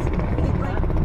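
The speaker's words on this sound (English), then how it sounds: "I think that's a flat tire." Car rolling along on a flat tire, a low, rough rumbling drone with uneven thumping texture, heard briefly from inside the vehicle.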